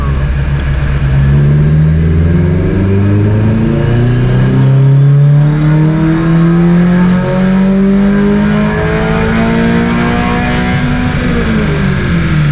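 A second-generation Subaru BRZ fitted with JDL headers pulls hard in fourth gear, its engine note climbing steadily in pitch as revs rise, loud and close, before easing off near the end.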